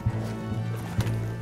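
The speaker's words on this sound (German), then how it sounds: "Da sind die Pferde." Horses in the open-world western game Red Dead Redemption 2 snort and shift close by, a brief, low blowing whinny and a couple of soft hoof thuds.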